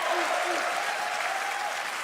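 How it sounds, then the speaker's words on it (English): Audience applause at Summer Game Fest 2025 for the game Clair Obscur, a steady dense clapping of a large crowd throughout, moderately loud and continuous with no break. "Now let's also applaud Claire Obscure from Sandfall."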